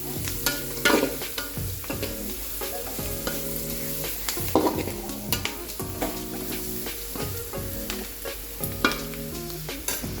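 Upma ingredients with turmeric powder frying in a pan for uppit, a continuous sizzle broken by repeated scraping and clinking stirring strokes, close up with no talk.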